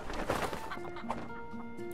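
Chicken clucking from the video game Sly 4: Thieves in Time, a few short fowl calls over steady game music and background sound.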